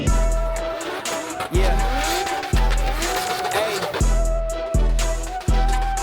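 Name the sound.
cars drifting with tire squeal at A1 Motor Park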